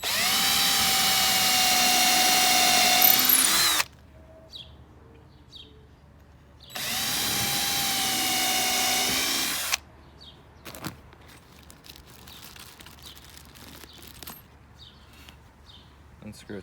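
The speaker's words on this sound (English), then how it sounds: "pre-drill 2 holes." A power drill pre-drills holes in wood in two sustained, loud, close whirring runs, separated by a quiet pause, followed by softer handling clatter.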